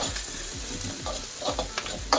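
Oil sizzles steadily in a pan as green chillies, curry leaves and crushed garlic fry, with a few stirring scrapes, a continuous crackling hiss without any talking.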